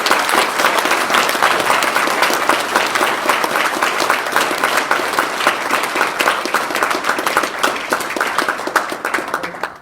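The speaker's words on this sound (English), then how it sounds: "I'd like to ask for a round of applause for all three." An audience at a Founders Day event gives a round of applause, with sustained, dense clapping from many hands that stays loud throughout and tapers only at the very end.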